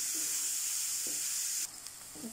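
Onions sizzle and crackle in a frying pan while being stirred for gobi manchurian, a constant close hiss broken by a few soft scraping knocks of the spoon and a brief drop in intensity near the end.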